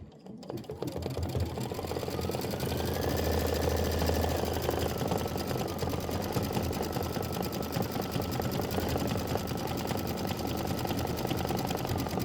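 An embroidery sewing machine stitches out a poinsettia and leaf design in yellow-gold thread, a loud, steady rapid mechanical chatter that carries on without pause.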